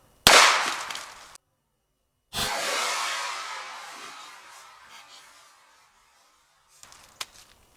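Revolver shots fired at targets outdoors: a sharp, loud crack followed by a long, decaying roll of echo, and a fainter shot near the end.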